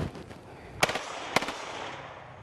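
Two sharp, loud rifle shots fired while moving toward a threat, spaced about half a second apart, each with a quick echoing decay over quiet outdoor ambience.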